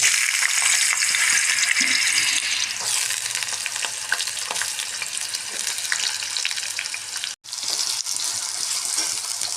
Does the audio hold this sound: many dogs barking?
no